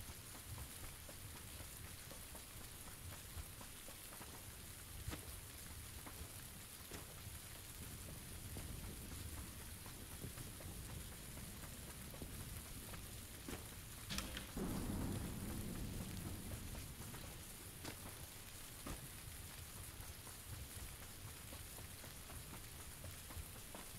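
Rain falls steadily in PUBG weather, with low rumbles of thunder and a louder roll midway, the whole storm faint and continuous.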